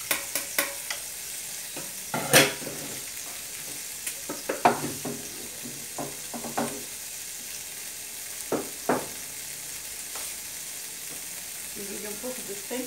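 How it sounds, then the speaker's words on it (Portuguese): Meat frying in a pan with garlic and salt, a soft sizzle running under scattered clicks and scrapes of a utensil, with a few sharper knocks against the pan; no one talks. "agora eu vou pôr um pouco de alho, um pouco de sal e botar a carne para fritar aqui"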